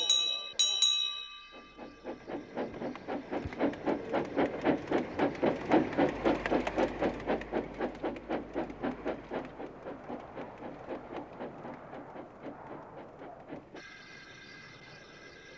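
Toby the cartoon tram engine runs along his line, a rhythmic chuffing and clickety-clack that swells to a loud middle and then fades as it moves away, with a bell ringing at the start and a whistle near the end.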